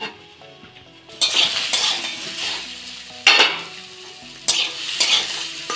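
Sweet potato and bitter gourd with chopped tomato being stir-fried in a pan, a spatula scraping and clattering against the metal in repeated bursts over a steady, close sizzle, with no voices.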